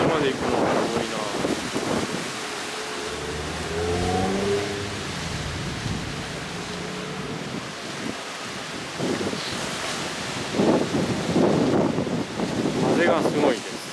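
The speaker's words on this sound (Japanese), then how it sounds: "風がすごいね。" Strong wind buffets the microphone at a seaside lookout area in Atami, Japan, a loud rumbling roar that swells and gusts throughout, with people talking over it at times.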